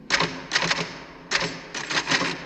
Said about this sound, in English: Whenever I'm in here, you hear me typing.